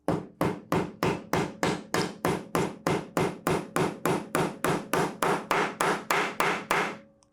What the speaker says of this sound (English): I'm going to hammer in that first nail